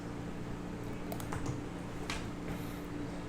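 Keys on a computer keyboard clatter in quick, uneven bursts during a typing game, close and moderately loud over a steady low hum, with no talking.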